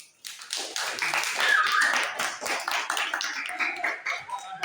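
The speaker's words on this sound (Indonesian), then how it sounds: "Berikan aplaus." A crowd applauds at a gathering, with dense, steady clapping that swells and fills the room for several seconds before tapering slightly.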